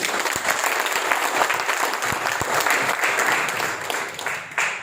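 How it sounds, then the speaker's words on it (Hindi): An audience bursts into sustained, dense applause at a live seminar event, steady clapping filling the room for several seconds before it begins to taper. "तो एक बार जोड़ो, ताली होनी चाहिए इस टेक्निक के लिए।"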